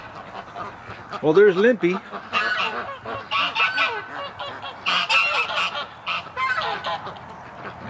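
Domestic ducks, with something goose-like to them, give repeated loud honking and quacking calls in short bursts close by, while someone talks over them.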